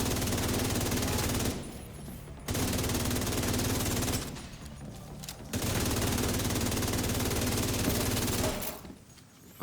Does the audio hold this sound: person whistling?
no